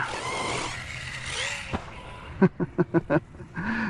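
A Team Corally Asuga 1/7 scale 6S RC basher buggy whines past, its motor note rising and fading, followed by a quick series of five sharp pulsing bursts as it drives.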